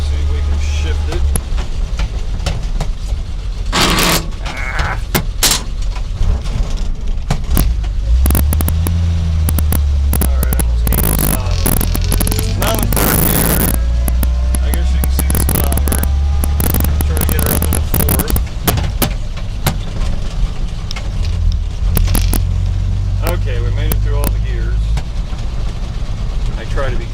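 A 1948 Ford F1 truck with a non-synchronized manual transmission is driven and shifted, its engine loud and rumbling throughout with a change in pitch partway through, under occasional talk.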